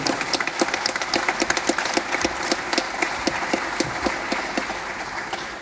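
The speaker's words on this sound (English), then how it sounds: "let's give them a round of applause" Crowd at a Mercer men's basketball press conference gives steady, sustained applause for the new head coach's family, close and even throughout with no talk over it.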